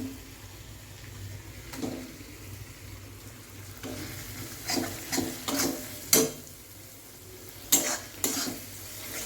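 Tomatoes added to chicken masala in a pan, a soft sizzle of frying running underneath as a spoon scrapes and stirs in several sharp clattering strokes, close and moderately loud, with no talking.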